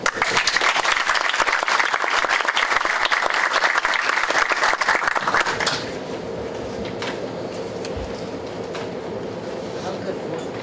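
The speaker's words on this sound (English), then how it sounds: "Please join me in a warm round of applause to our speaker." Loud, steady applause from a workshop audience for a conference speaker at a dynamical systems event, dense clapping for about six seconds before cutting off abruptly into quiet room tone.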